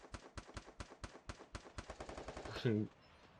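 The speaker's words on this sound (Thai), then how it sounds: "มึงยิงอะไรกันขนาดนั้น" Rapid automatic gunfire from the video game Free Fire Max, a run of sharp, evenly spaced shots that speeds into a dense burst before a brief louder blast and a short tail, with a voice faintly underneath.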